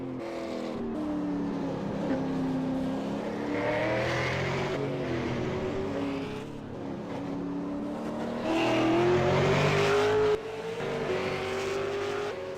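V8 Supercar race car engines howl around a track in a sim racing game, with rising and falling revs through the gears and several cars audible at once. A steady, loud engine drone runs throughout with brief dips between shifts.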